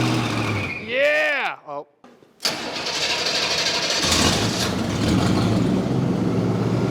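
A Buick Wildcat V8 cranks and catches after sitting 21 years, then settles into a loud, rough, steady idle with rises of revving, close by, with short exclamations from people.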